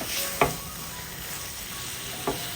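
Chopped dates stirred and roasted in a pan with no sugar added, giving a soft steady sizzle with two distinct scraping strokes of the spoon, close and fairly quiet.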